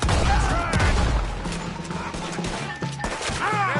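Gunfire in Red Dead Redemption 2 during a wagon-push fight, with rapid shots crackling over a steady din of game noise and shouting voices throughout.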